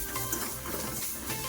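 Sliced onion with turmeric, coriander, cumin powder and red chili frying in a pan, a dense continuous sizzle with stirring noise, close and fairly loud with no break.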